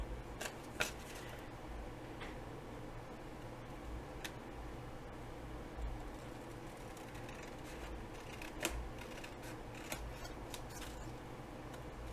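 Scissors trim a paper envelope pocket, giving quiet, scattered snips and crisp paper ticks at irregular intervals over a faint background hush, with no voices.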